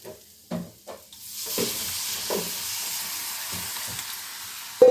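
Goat blood being fried and stirred in a pan: a few utensil scrapes and knocks come first, then a steady close sizzle and hiss takes over, with occasional stirring clacks and a sharper knock at the end.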